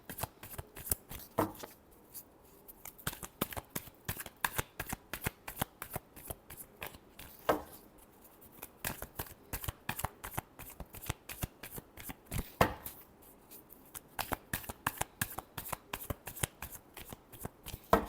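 A deck of tarot cards shuffled by hand, a steady run of quick, crisp riffling bursts that repeats close up with brief gaps, with no talking.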